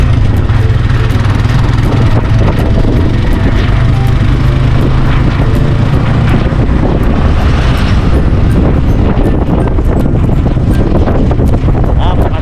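Strong wind at Bagasbas beach in Daet buffets the microphone with constant loud rumbling and gusting, a roaring outdoor wash that never lets up.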